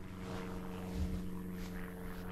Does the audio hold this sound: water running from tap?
no